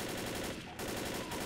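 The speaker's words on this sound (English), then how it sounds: "Having some trouble hearing you during the gunfire." Rapid, continuous automatic gunfire in the video game Left 4 Dead, dense and loud, with a brief break midway before the burst resumes.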